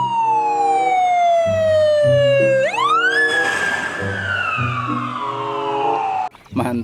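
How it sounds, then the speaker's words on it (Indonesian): A toy ambulance siren wails loudly, sweeping down in pitch, then jumping up and sliding back down again over a repeating background tune. "Yang ini mobil ambulan."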